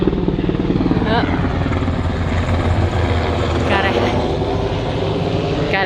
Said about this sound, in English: Got a helicopter coming through.